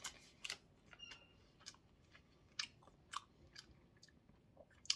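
Close, quiet chewing of jjageuli stew, with soft wet smacks and crunchy bites that come at irregular intervals over a faint background.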